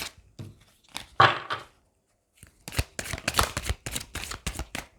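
Tarot cards being shuffled by hand, bursts of riffling and flicking with a short pause in the middle, then a quick run of crisp, close card slaps.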